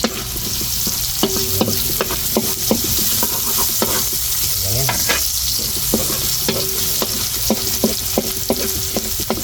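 Onions stirred and sautéed in a frying pan, a steady sizzle broken by repeated scraping knocks of a utensil against the pan, close and fairly loud, with no voices.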